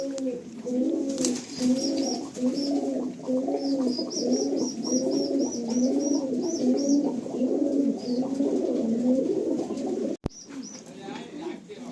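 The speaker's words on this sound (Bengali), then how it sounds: "পায়রা না এটা প্রিমিয়াম কোয়ালিটির পায়রা" Pigeons coo in a loft in a steady, rhythmic chorus of repeated low calls, near and loud, with faint higher chirps above and a sharp knock near the end.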